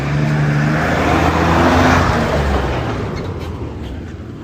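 A single road vehicle passes nearby, its engine noise swelling to a peak around the middle and then fading as it moves away, with no voices.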